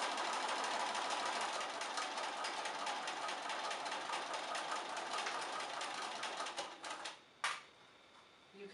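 Close and steady, a sewing machine stitches through thick towel layers in a rapid even chatter that stops near the end, followed by a brief clunk.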